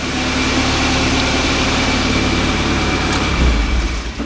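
Audi S1 engine running at a steady idle after starting through a rewired starter relay, a constant low droning hum with a brief surge near the end, heard close with no talking.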